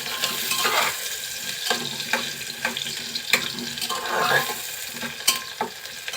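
Potatoes and green chillies frying in a pan while being stirred, a soft continuous sizzle broken by repeated scraping clacks of the spoon, close and fairly quiet.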